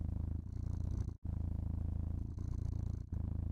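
A cat purrs steadily and close up, a low rhythmic rumble with brief breaks between breaths, heard alone without talk.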